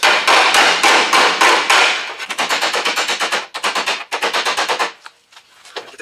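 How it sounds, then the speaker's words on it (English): Rapid metallic hammering with hammer and dolly on a 1965 Pontiac GTO's sheet metal during rust repair, bursts of quick ringing blows in steady rhythm, loud and close, trailing off into a few lighter taps. "And then I'll go ahead and hammer and dolly it."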